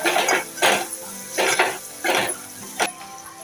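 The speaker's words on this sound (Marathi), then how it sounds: "छान परतून घेऊया" Spices for drumstick dal are stirred in a metal pan: five or six rhythmic scraping sweeps of a spoon against the pan over a faint sizzle.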